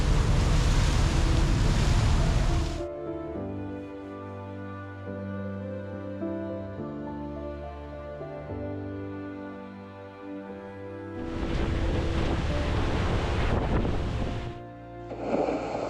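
A boat heads out across the open water of Lake Superior, a steady engine drone and hull hum under rushing wind and spray noise that swells loudly at the start and again near the end.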